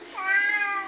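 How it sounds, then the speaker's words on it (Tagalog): A single short cat meow, clear and close, rising then falling in pitch. "Cute kayong pusa na to."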